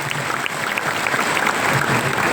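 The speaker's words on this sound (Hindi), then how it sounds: "एक बार जोरदार ताली हो जाए।" Audience applause at an institute event, a dense, steady clapping from many hands that continues evenly throughout.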